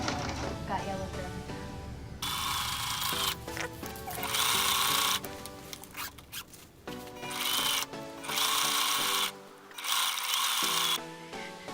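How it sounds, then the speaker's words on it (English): A sewing machine top-stitches a yellow strip onto a flight suit, running in several loud bursts of rapid stitching separated by short pauses, with quiet handling noise in between. "I'm just sewing the yellow strip onto the flight suit. I'm using a normal top stitch."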